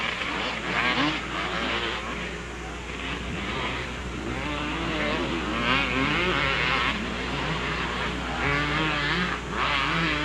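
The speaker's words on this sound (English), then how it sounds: "David Arsenault rolls on the throttle as he sees some straightaway in front of him." Motocross motorcycles race on a dirt track, their engines loud and continuous, revving up and falling back in repeated surges as the bikes throttle through the course.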